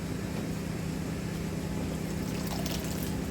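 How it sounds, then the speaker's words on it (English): Purified water poured over potted tomato and pepper seedlings indoors, a steady close trickle and splash running continuously without a break, with no talking over it. "I'm just going to water them in with some purified water."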